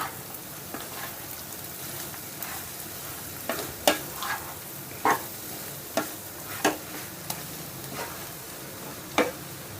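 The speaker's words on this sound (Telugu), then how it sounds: "ఇప్పుడు స్టవ్ని సిమ్లో పెట్టుకొని వీటన్నిటిని బాగా కలిపేసుకుందాం" Cabbage vegetable curry frying over low heat in a pan, stirred in sharp intermittent scrapes and clinks over a steady soft sizzle, close and fairly loud, with no talking.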